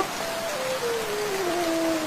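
Steady rain hisses evenly throughout, with a faint thin tone sliding slowly downward above the downpour.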